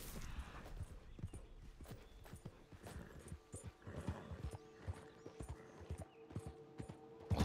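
Horse hooves clip-clop at a steady walking pace in Red Dead Redemption 2, a series of close, clear thuds with faint background ambience and a brief whinny-like tone.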